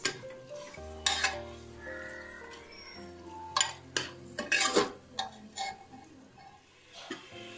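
A spoon stirs mutton pieces coated in onions, turmeric and ginger garlic paste in a pan, giving soft sizzling with intermittent scraping and clinks of metal against the pan.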